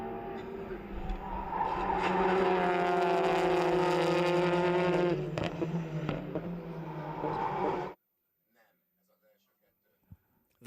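TCR touring race cars at Oschersleben thunder through the S-bends, with a loud sustained engine roar that shifts pitch as they pass close by. The sound then cuts off abruptly into near silence, with a faint knock at the end.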